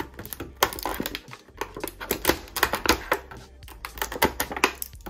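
A utility knife slicing through adhesive tape while a toy package is unpacked, heard as a rapid series of sharp, close clicks, scrapes and crinkles in irregular bursts, with no voice over them.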